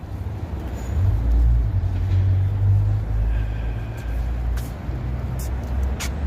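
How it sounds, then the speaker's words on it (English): Buses idling and moving at a downtown bus terminal on a cold night, a steady low engine rumble with brief sharp air-brake hisses near the end. "It's our downtown bus terminal."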